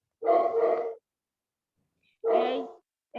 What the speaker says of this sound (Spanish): Uy, el perrito.